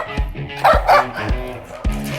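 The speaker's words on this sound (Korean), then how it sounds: "보시면 제가 이제 가까이 가면 저한테 짖을 거예요." Rescued dog barking territorially at a person approaching, several sharp barks in irregular succession, close and loud, with a voice speaking between them.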